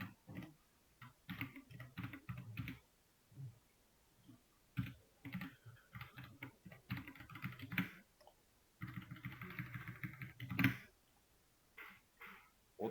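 Bursts of computer keyboard typing while writing code, quick clusters of crisp close clicks separated by short pauses, fairly quiet and with no talk.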